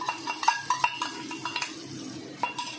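Spice paste and prawns being stir-fried in a metal pot, heard as a run of sharp metallic clinks and scrapes from a spoon against the pot over a faint sizzle.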